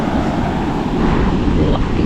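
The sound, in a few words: strong monsoon wind at the sea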